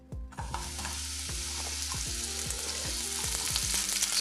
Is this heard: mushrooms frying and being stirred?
yes